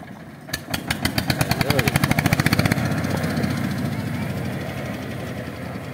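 A small wooden river boat's engine cranks with a rapid train of sharp pulses, then catches and settles into a steady, loud chugging drone on a swollen river, with a voice briefly heard over it.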